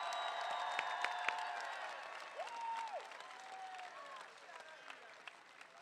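A large crowd at a University of Iowa women's basketball celebration applauds and cheers for the band and cheer team, the clapping fairly distant and soft, with whistles and a few sharp claps standing out, fading gradually.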